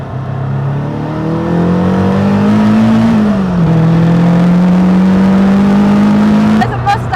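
A Caterham 360S road and track sports car accelerates hard, its engine droning loud and close with a steadily climbing note, a quick dip at a gear change, then climbing again before easing off.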